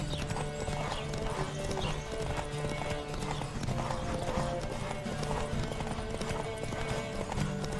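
A horse gallops in the video game The Witcher 3: Wild Hunt, its hoofbeats clip-clopping in a steady fast rhythm throughout, close and clear over continuous game music.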